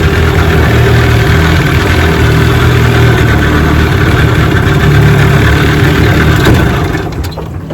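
An 18 HP Evinrude outboard motor idles steadily on a boat out on the water, a loud, close, even drone that eases off slightly in the final second.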